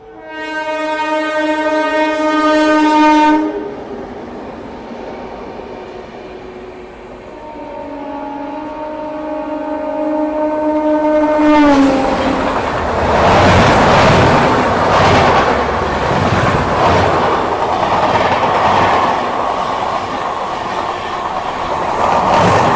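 GT Express passes close by, sounding its horn in long steady blasts, then a loud roar of wheels and rattling carriages takes over as it rushes past.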